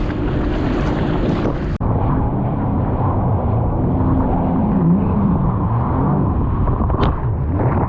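A Sea-Doo GTX 300 jet ski runs over big Gulf of Mexico ocean swells, its engine droning loudly and continuously under heavy wind buffeting on the microphone, with one sharp knock partway through.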